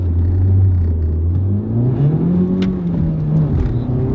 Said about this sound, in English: Takes off fast, especially at high RPMs.